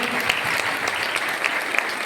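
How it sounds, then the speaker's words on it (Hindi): Loud applause breaks out for a student contestant who answered correctly at a quiz on the Indian freedom struggle, a dense, even burst of clapping from a close audience with a few sharper claps. "जोरदार तालियां बेटी के लिए एक मिनट"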